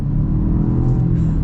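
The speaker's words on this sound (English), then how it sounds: "Let's get our acceleration now." A 2024 Jaguar XF with a four-cylinder engine accelerating hard, heard from inside as a loud, steady low engine drone and rumble that holds strong throughout.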